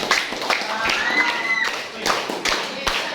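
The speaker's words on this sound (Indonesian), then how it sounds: "Yuk tepuk tangan dulu untuk kita semuanya" Students in a classroom lesson clap their hands together in a short burst of uneven claps, with sharp individual slaps standing out near the end, while a teacher's voice carries over them.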